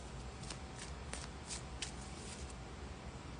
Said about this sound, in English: I just did all of that shuffling.